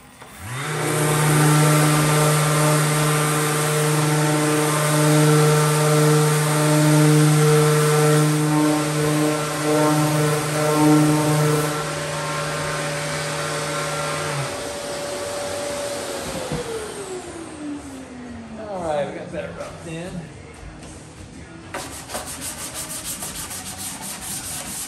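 A dual-action sander whirs steadily and loudly while sanding body filler, then spins down with a falling whine before some quieter scraping and handling noises.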